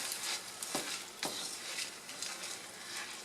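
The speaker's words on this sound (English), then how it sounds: "Okay, so you hear it sizzling?" Rice sizzling in a hot pan on high heat with sautéed aromatics and salt, a steady faint crackling hiss with a couple of sharp stirring scrapes, close and without talking.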